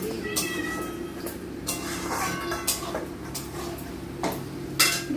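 A pet laps and eats freshly cooked meat from a bowl, giving soft wet licks and scattered clinks against the dish at close range, with no talking.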